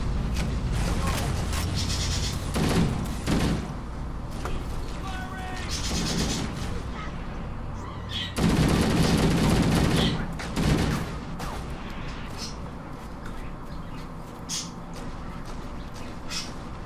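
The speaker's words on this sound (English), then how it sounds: "What are you shooting at, guy?" Bursts of gunfire and mechanical clatter in the video game Halo, coming in repeated loud volleys over a busy battle background, with people talking intermittently over it.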